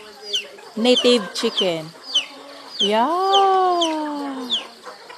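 Native chickens are eating in a yard, with clucks and short calls heard close by. A drawn-out, wavering crow-like call rises and falls in the middle, and a person speaks briefly nearby.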